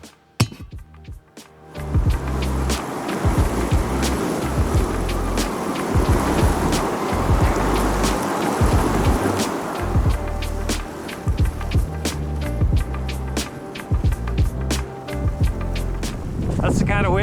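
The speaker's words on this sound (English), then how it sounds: "That's the kind of wind you don't mess around with." Strong gusty wind on an exposed New Zealand mountainside, a loud sustained rushing roar with clattering and knocking, a person talking over it.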